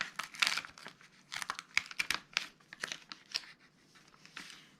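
Paper on a cardboard box tearing and crinkling in a quiet room, a run of sharp ripping bursts and crumpling rustles, close and moderately soft, with no voices.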